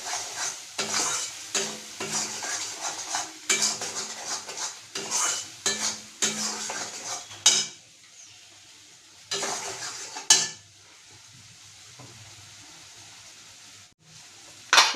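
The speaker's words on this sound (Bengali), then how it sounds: "এটাকে নাড়াতে থাকবো" A spoon stirs egg korma spices and turmeric in a hot pan, making bursts of scraping and clattering against the metal over a soft sizzle, with quieter pauses near the end.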